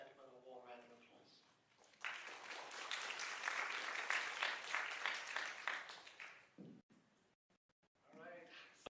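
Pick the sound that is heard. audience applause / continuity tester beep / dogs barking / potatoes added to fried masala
audience applause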